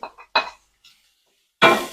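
Fish pieces tossed into a hot pan for sautéing, a burst of clattering and sizzling after a few short metallic clinks of utensils against the pan, close and fairly loud.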